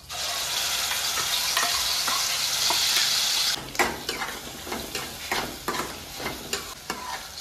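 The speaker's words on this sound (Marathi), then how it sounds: "आता आपण त्यात टाकूया मोहरी, जिरं आणि आपण जी पेस्ट बनवून घेतली आहे कांदा टमाटा अद्रक लसूणची" Mustard seeds, cumin and an onion, tomato, ginger and garlic paste frying in oil for kofta curry: a loud, dense hiss of hot oil, then the paste drops in and repeated spoon stirring and scraping rattles the pan up close.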